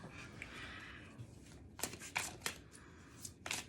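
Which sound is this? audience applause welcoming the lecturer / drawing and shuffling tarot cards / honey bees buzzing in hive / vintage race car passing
drawing and shuffling tarot cards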